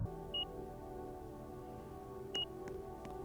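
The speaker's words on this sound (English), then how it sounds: "listen to the audible beeps." Two short electronic beeps sounding as Morse code in the Roblox game Identity Fraud, one early and one later, faint and alone over a steady low ambient drone.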